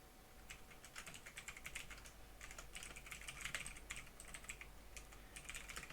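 Steady typing on a computer keyboard, rapid clicking keystrokes in continuous bursts, close and clear with no voices.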